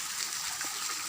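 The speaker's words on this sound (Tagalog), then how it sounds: "Marinig natin ang boses ng tubig na kumukulo doon sa ilalim." Hot spring water bubbling and boiling below ground, heard as a steady faint gushing wash with no distinct bursts, continuous throughout.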